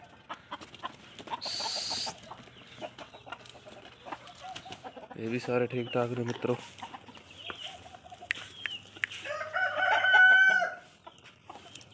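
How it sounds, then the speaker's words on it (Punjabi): Hens cluck and a rooster crows nearby among other farmyard calls, with someone talking intermittently over them. "ਆਪਣੇ ਵੱਡੇ ਮੁਰਗੇ ਤੇ ਮੁਰਗੀਆਂ"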